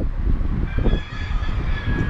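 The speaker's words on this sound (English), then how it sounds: "Now if you're hearing a rooster in the background," A rooster crowing somewhere off in a busy roadside area along Southern Main Road in Montrose, Chaguanas, Trinidad, with a drawn-out call carried over a low, continuous din of traffic and street noise.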